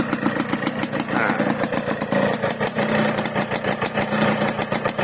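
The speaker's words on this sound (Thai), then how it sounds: "อันนี้เป็นรอบเดินเบานะครับทุกคนเสียงนี่ก็กังวานเลยทีเดียว" A Yamaha RXK 135cc two-stroke motorcycle, roughly a 1970s–80s model with slightly worn piston rings, idles with a steady, rapid, resonant putter, close and fairly loud throughout with no talk over it.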